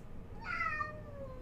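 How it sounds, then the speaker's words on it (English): A single cat meows once, faint and somewhat distant, a short rising-and-falling call over a quiet room hiss. "Yes, the cat agrees. Do you hear?"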